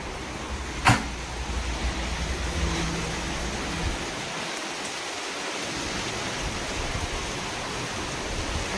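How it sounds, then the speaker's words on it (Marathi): Heavy rain pours steadily outside a gallery, a dense continuous hiss with a sharp knock near the start and a brief dip in the low rumble midway. "कडच्या गॅलरी मधून पाऊस बघत."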